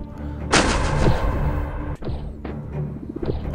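Booming laser blasts from a spider enemy in the video game Mooch, a loud sustained burst followed by a series of shorter repeated shots, close and forceful.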